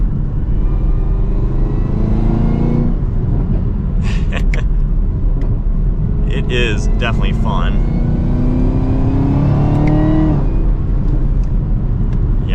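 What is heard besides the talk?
2023 Chevrolet Camaro ZL1 engine while driving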